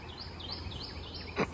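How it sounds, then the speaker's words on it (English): Faint birdsong drifts outdoors in the morning, with thin repeated chirps and whistles sounding well in the background over a low ambient hum. "y'all hear them in the background, they're still singing"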